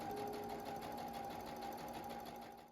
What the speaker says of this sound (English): Sew it in place.